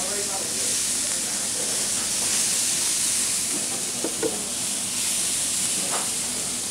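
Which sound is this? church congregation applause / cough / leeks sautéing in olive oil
leeks sautéing in olive oil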